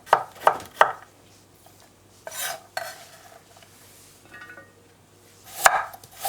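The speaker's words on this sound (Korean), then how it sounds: "이렇게 약간 도톰하게 채를 썰어도 됩니다." A kitchen knife slices zucchini into thick julienne strips on a cutting board, with quick clusters of crisp chops separated by quiet pauses and a final louder run of cuts.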